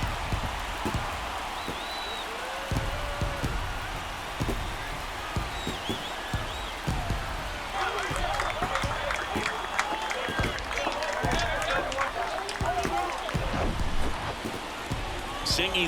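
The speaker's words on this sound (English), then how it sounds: "That fires up the home crowd" Home crowd roaring and cheering in a ballpark after a long home run in MLB The Show 23 baseball game, a steady dense crowd wash that swells louder partway through, with commentators talking over it.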